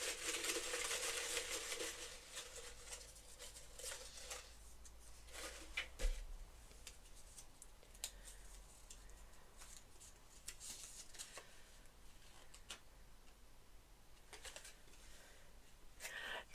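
Folded paper slips rustle and shuffle inside a to-be-read jar as a hand digs through to draw one, soft close crinkling that fades to quieter scattered rustles and a small knock.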